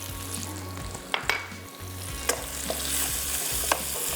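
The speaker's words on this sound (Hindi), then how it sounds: "तमाम चीज़ें डाल के आपने हल्का सा फ्राई कर लेना है" Dates, almonds, walnuts and dried coconut frying lightly in a pan, a steady sizzle broken by a few sharp scraping stirs of a spoon, close and loud with a low hum underneath.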